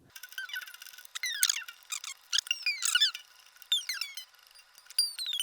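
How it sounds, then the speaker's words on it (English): Acoustic guitar strings being loosened, producing a run of thin rising and falling squeaks in short bursts, close and quiet. "I am going to need to loosen the strings."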